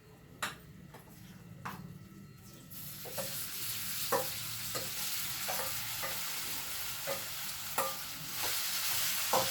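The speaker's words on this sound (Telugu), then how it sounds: "నేను ఇంకా పచ్చడి వేసేస్తున్నాను తాలింపులో" Raw mango chutney being fried in a tempering pan, with a steady sizzle broken by periodic scraping stirs of a spoon against the pan, close and moderately loud.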